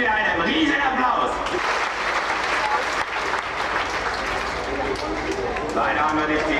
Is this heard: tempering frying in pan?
no